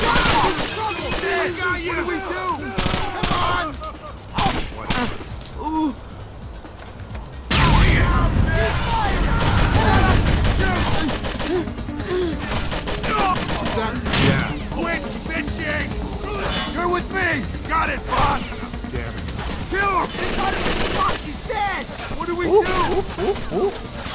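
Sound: gunfire in the video game Rainbow Six Vegas

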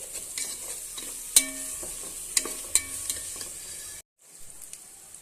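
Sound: stirring chicken curry with garam masala in pan

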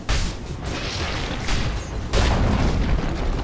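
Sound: tower being destroyed in the video game Dota 2

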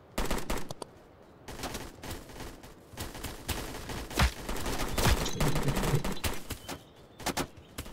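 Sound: gunfire in Roblox Blackhawk Rescue Mission 5 video game

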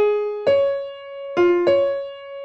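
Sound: violin part from Tchaikovsky's Sixth Symphony final movement

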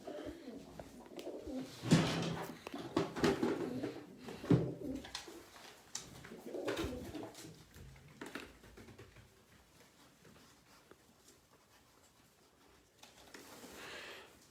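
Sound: pigeons cooing

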